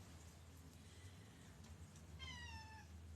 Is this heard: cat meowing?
yes